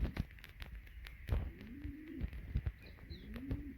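Pigeons coo in a few low, rolling calls close by, with soft rustles and bumps around them.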